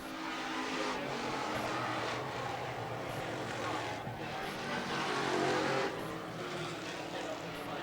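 Stock cars racing in a Strictly Street heat at Portland, a steady loud roar of several engines passing throughout, with a commentator talking over it.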